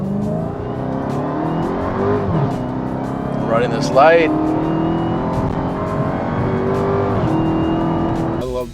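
Dodge Hellcat, an American-made car, roaring as it accelerates and drives, a steady loud engine drone with a brief rising rev midway, heard under continuous excited talk.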